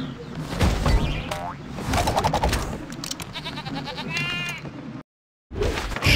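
A sheep enemy in the Skylanders Trap Team video game bleats in several wavering bursts amid game music and springy effects, with a brief silent gap near the end.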